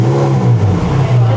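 Ferrari Speciale V8 engine on a warm start, a loud, steady, deep idle rumble close by.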